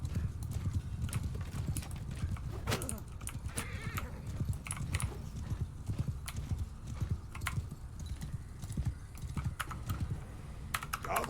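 Horse hooves clip-clop in a rapid, continuous rhythm as cavalry advances in the video game Holdfast, set amid a busy battlefield din with sharp clatters throughout.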